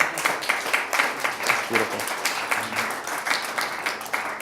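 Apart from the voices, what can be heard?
audience clapping and applause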